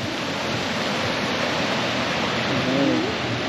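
Steady rushing of flowing water, broad and constant like a river or stream close by, with a faint voice briefly audible near the end.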